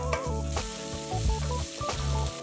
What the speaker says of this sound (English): then we're going to fry off our onions for 3 to 4 minutes